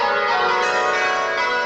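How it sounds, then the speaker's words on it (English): A church bell rings in a brief demonstration of bell ringing, giving one steady, resonant tone that sustains with no clear break and no talking. "we're going to have a quick look at a demonstration using a bell"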